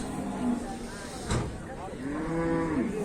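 At a livestock market, cattle moo in a few long, low calls, one nearby and others drawn out toward the end, over a background murmur of crowd noise.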